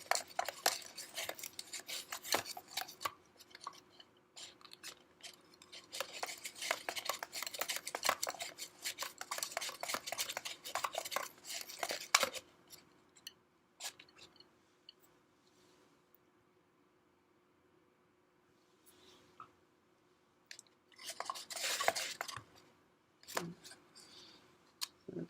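Ice water being stirred in a container during a chemistry lab, a spoon clinking and scraping against the sides in bursts, with quiet pauses between rounds of stirring.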